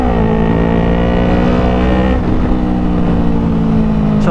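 A Yamaha R3 Limited Edition motorcycle engine revs hard toward its 12,000 RPM ceiling, a loud, steady, close whine that holds throughout with no talking.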